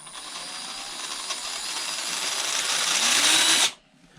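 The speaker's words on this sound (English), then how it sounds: "Just a little bit of throttle, and obviously with the gearbox and that transfer case, that allows you a very nice steady crawl." RGT EX86010-CJ 1/10 scale RC crawler with split transmission, gearbox and transfer case: a loud, steady electric motor and gear whine held close for several seconds, rising slightly, then cutting off abruptly.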